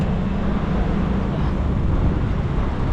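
A vehicle engine idling after being switched on, a steady low droning rumble held evenly throughout, close and moderately loud with no talk.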